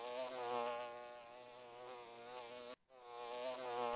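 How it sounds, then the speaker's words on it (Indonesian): In an animated scene, a wasp buzzes steadily and close by with a continuous droning hum, briefly cut off by a short silence before the buzzing resumes. "Kok ada tawon ini?"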